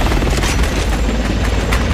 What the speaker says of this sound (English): The chopper's pulling back.